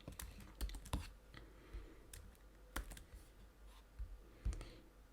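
A computer keyboard is typed on in scattered clicks, quiet and close, with irregular keystrokes and pauses and no speech.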